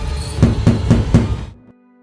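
Frantic banging on the door of an old house at night, four heavy evenly spaced knocks in quick succession, close and loud, then cutting to near silence.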